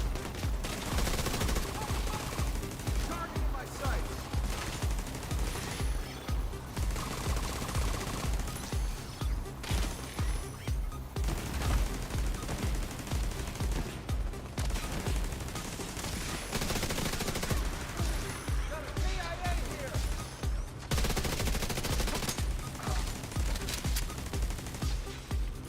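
Dense, continuous gunfire in the shooter game The Division 2, with rapid rattling bursts and overlapping shots at steady high loudness throughout, no voices over it.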